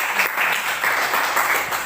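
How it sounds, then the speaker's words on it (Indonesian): A class applauds during a geography lesson about natural disasters in Japan, with steady, dense clapping from many hands that carries on evenly throughout. "Tepuk tangan dulu."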